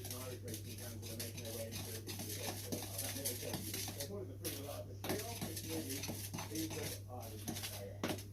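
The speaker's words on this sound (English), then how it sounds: "So I'm going to just give that a mix with my spoon." A spoon stirs soda cake batter in a bowl, giving a steady run of soft scraping and clinking knocks against the bowl over a constant low hum, close and fairly quiet, with someone talking over it.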